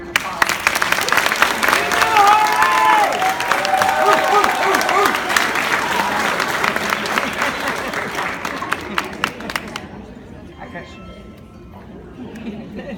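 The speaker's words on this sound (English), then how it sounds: "Let's give them one more applause." Crowd applause and cheering at a school DARE graduation ceremony. Loud clapping mixes with shouts and whoops and voices chattering over it, then drops away sharply near the ten-second mark into quieter scattered sounds.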